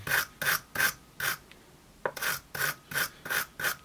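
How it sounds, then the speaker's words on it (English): A wire brush scrubs rust from the teeth of a PROTO offset screwdriver in quick, regular rasping strokes, about ten close, loud scrapes with a brief pause in the middle. "Just get a wire brush on here, get that rust out the teeth just here."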